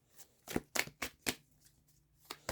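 Tarot cards are shuffled close up, a quiet series of crisp, irregular riffling slaps and flicks with no talk.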